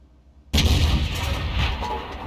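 SU-100Y tank gun firing in a video game, a single heavy, deep boom that erupts after half a second of quiet and then rumbles on loudly as it decays.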